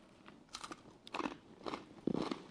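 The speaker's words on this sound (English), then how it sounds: "Do you wanna do a crunch test?" Close, quiet crunches come as someone bites and chews crisp fig crackers from a party-size charcuterie board, giving about four separate crackling bursts with short pauses between them.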